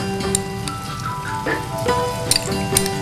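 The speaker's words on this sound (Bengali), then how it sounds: "রসুন বাটাটা প্রথমে দিচ্ছে গরম তেলে" Garlic paste dropped into hot oil fries with a crackling sizzle, spattering pops and occasional clinks of a spoon against the pan, close and steady.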